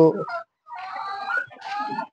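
Exotic fancy chickens on a farm make short clucking and squawking calls: a brief burst, a pause, then two longer warbling, gobble-like calls close by, with no talk over them.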